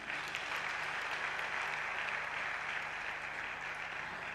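A church congregation applauds in a steady, dense wash of clapping that holds at even loudness from start to finish, with many hands blending into one continuous roar.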